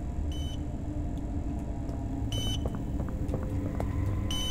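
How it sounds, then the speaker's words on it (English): Repeated electronic beeping in the Poppy Playtime Chapter 2 video game, short evenly spaced bursts coming from somewhere off in the distance over a steady low background hum. "there's a beeping back there that I need to get to"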